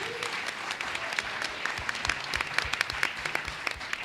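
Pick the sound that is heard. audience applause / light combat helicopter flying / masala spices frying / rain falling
audience applause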